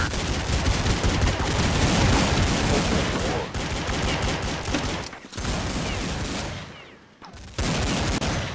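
Rapid pistol gunfire from Counter-Strike 1.6 in a pistols-only match on the untitled map, loud dense volleys of overlapping shots with brief gaps near the middle and end.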